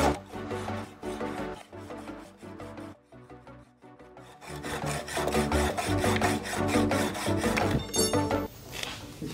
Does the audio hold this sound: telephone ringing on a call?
no